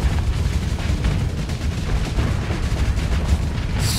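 Missiles firing during a space battle in the game Starsector, a dense, rumbling barrage of overlapping booms and blasts that keeps up without pause, loud and close.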